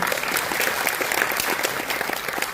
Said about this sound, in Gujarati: એકવાર એ બધા જ યુવાનો માટે જોરદારની તાળીઓ થઈ જાય.